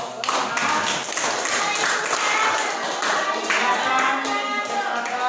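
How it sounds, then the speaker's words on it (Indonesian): A classroom group applauds with steady clapping for about five seconds, mixed with light taps and thumps, fairly loud and close throughout. "Ya, kasih aplaus."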